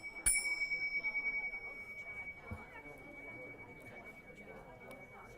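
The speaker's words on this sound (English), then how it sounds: "I have my magic bells." Small bells rung in a talk on soul growth: one bright strike near the start with a long, clear ring that fades slowly, over faint room noise and quiet distant voices.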